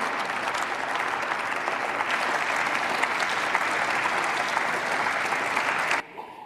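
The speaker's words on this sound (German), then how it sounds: "man achte auf den etwas gelangweilten Applaus aus den Reihen der FDP und aus den Reihen der CDU" Subdued, steady applause from FDP and CDU members in the German parliament, an even wash of clapping lasting several seconds before cutting off abruptly.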